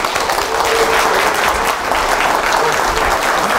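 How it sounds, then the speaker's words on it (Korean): A large crowd applauds after a speech at a party's founding convention, with loud, dense, sustained clapping filling the hall. "다시 한번 큰 박수 부탁드리겠습니다"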